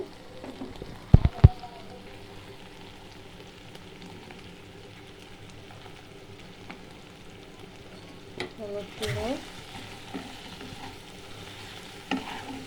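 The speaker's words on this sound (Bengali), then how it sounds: "হলুদ গুঁড়ো ভালোভাবে ভেজে নিব" Turmeric powder fries and is stirred with salt and spices in a pan: a soft, steady sizzle with scattered scraping taps and a brief louder rustle of stirring near the end.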